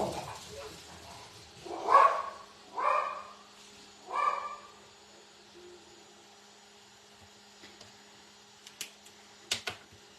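A dog being walked gives three short barks, about a second apart, fairly faint and distant, then a few light clicks in a quiet room.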